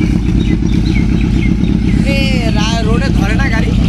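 A motorcycle engine runs loud and close, a steady throbbing idle with some revving, while people talk excitedly over it.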